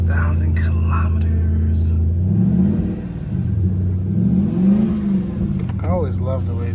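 A 2000 Toyota Celsior with a small aftermarket exhaust revs up twice in smooth swells over a deep idling rumble, close and fairly loud, with brief quiet talk near the end.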